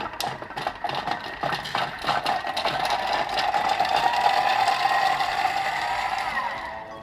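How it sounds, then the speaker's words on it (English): A Thermomix mincing ginger and garlic at top speed 10 gives a steady, loud whirring blade noise with rattling chopping. It builds slightly and holds for several seconds before easing off near the end, with no talk. "we're gonna crank up the speed selector to 10, and that's gonna mince our ginger and our garlic in literally just a matter of seconds"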